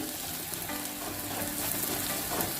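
Green chillies sautéing in oil in a pan for chicken gravy, a steady close sizzle and crackle with faint stirring throughout.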